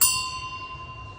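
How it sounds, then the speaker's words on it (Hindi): A single temple bell strike rings out with a bright attack and a long, steady shimmering decay, heard alone and fairly close, at a historical temple in Peshawar. "दूसरी जानिब मंदिर की घंटी की आवाज़ सुनाई देती है।"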